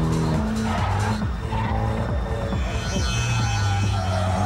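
A Japanese import car drifts sideways at Silverstone, its tires squealing in long wavering howls over a droning engine that rises and falls as it slides through the corner, fairly close and loud.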